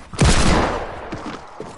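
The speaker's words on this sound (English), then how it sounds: "I'm fighting you with the freaking hand cannon, boys" A hand cannon firing in a video game: one loud, close boom that decays into a rumbling tail, with a few fainter shots in the distance after it.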